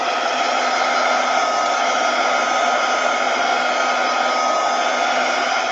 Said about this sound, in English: I'm going to take my heat gun and just dry these up a little bit.